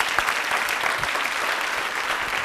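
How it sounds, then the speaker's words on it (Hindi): Studio audience clapping for quiz show contestants in a Jaipur studio, a brief, even wash of many hands applauding at close range with no talking over it. "तालियां जोरों से बजाइए दोनों के लिए आप।"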